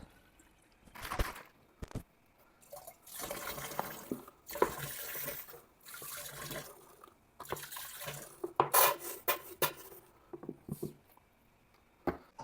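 Water splashes and pours in irregular bursts, with sloshing and stirring noises between them, close by and moderately loud, as water is mixed with honey for home-brewed mead.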